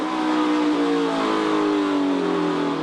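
A NASCAR Sprint Cup stock car races at Kansas in 2011, its engine a loud, continuous roar whose pitch slides as the car sweeps by close at speed.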